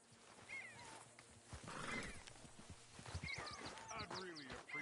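A horse in the video game Red Dead Redemption 2 snorts and whinnies amid hoof clip-clops, with a person talking over the animal sounds at moderate distance.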